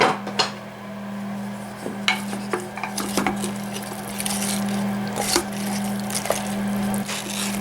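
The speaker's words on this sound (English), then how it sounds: "there's a satisfying sound when you're mixing something gushy" A spoon stirring tomato sauce into a thick crock pot stew, giving scattered scrapes and soft clinks against the pot over a steady background hum, with no talking.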